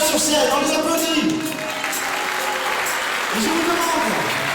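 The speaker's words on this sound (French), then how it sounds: "merci aux 49 sur scène, on les applaudit." A crowd at a public political meeting applauds people on stage, with loud sustained clapping and a voice and tonal sound riding over it.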